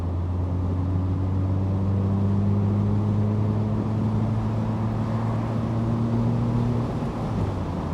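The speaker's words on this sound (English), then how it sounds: "Just gonna give a little throttle." Car engine idling, then given a light touch of throttle during air/fuel ratio checks, a steady close droning hum whose pitch drifts up a little before easing back near the end, with no voices.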